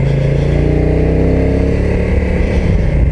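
A Honda NT1100 DCT touring motorcycle engine revs hard at full throttle, a loud, steady, close-up roar with rising harmonic tones and no talking.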